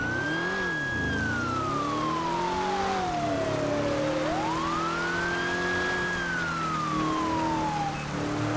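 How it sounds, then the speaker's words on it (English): A police car's wailer siren in the video game GTA V (FiveM roleplay) wails in two slow rising and falling sweeps over a steady engine rumble. "I wondered if you could hear my wailer."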